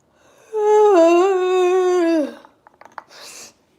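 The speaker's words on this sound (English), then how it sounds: "This loud, obnoxious yawn." A loud, drawn-out yawn rises and falls for about two seconds as a single voiced breath, then trails into a few faint clicks and a short breathy exhale.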